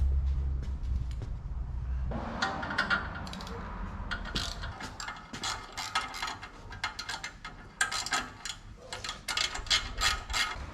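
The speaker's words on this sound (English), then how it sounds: "first you want to start by removing the flange bolts" A ratchet loosens the exhaust flange bolts on a Harley-Davidson Dyna Low Rider while a Vance and Hines 2-into-2 exhaust is swapped. Close, rapid bursts of clicking come in uneven runs over a faint background.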